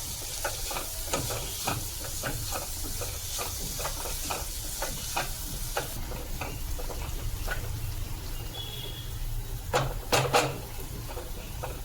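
Onion-garlic masala frying in a pan for Malvani kalva, stirred with a spoon: a steady sizzle runs throughout, with regular scraping strokes and a few louder clinks of utensil against the pan near the end.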